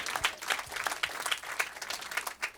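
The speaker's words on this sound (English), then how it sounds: "Oh, give them a round of applause." A small crowd at an intimate City and Colour fan event applauds in a lively, uneven burst of clapping with a few voices mixed in.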